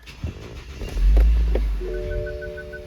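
A BMW X3 engine cranks and catches, rumbling low and close, then settles into a steady idle with a faint electronic chime.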